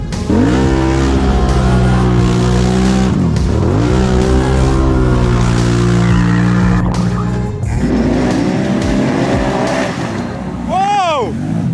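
An ATV engine revs hard and close, its pitch sweeping up and down as the tires skid and squeal, with voices talking over the roar.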